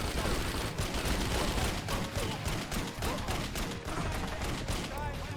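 Dense, sustained gunfire from the Wheelman video game, rapid shots blending into a loud continuous barrage with no pauses, under a busy game soundscape.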